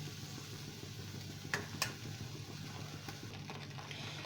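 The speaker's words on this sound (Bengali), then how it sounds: "এবার তেলের সাথে পোস্ত বাটাটা ভালো করে একটু কষিয়ে নেব অর্থাৎ একটু ভেজে নেব" Poppy seed paste ground with green chillies fries gently in oil with a quiet, continuous sizzle, broken by a couple of sharp spoon clinks and stirring scrapes against the pan.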